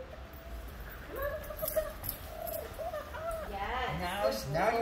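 Small dog whines and yips in a string of rising, pitched cries, fairly close, with faint background noise throughout.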